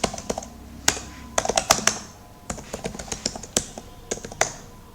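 Computer keyboard typing a Linux command during an ethical hacking session, with irregular clicky keystrokes in quick bursts and a firm Enter-like tap, close and clear with no talking.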